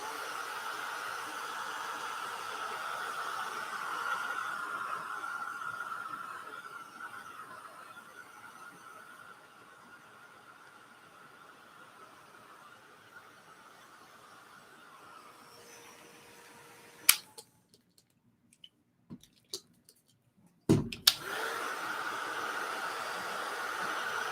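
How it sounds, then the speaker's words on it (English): A heat tool heat-setting mixed media paint on a craft tag blows a steady, airy hiss for about fifteen seconds, then cuts off into near silence broken by a few clicks and knocks before the blowing resumes. "I'm going to heat set this"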